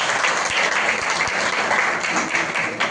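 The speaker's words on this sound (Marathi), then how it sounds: "एकदा आपण त्यांच्यासाठी जोरदार टाळ्या दिल्या" Steady, loud audience applause fills a hall for a training programme's leadership, a dense continuous clapping with a few distinct low thumps.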